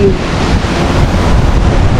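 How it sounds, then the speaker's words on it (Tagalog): Strong wind buffets the microphone at the sea in Boracay, a loud continuous roar mixed with surf and waves, steady throughout with no clear voices. "lakas ng hangin talaga"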